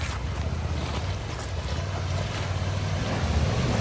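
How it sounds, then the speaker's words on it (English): Big adventure motorcycles push through a water crossing, giving a loud, continuous rush of splashing water and low engine rumble that swells slightly toward the end, with wind buffeting the microphone. "We had to stop and do the famous water crossing."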